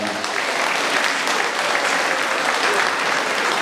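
Dense, steady applause from a boxing crowd fills the arena before a WBO European middleweight title bout, loud and continuous throughout with no voices on top.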